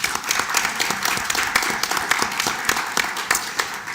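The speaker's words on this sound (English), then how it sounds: "We'll give him a round of applause." An audience at a fireside podcast event applauds, dense, loud, continuous clapping that holds steady throughout with no talking.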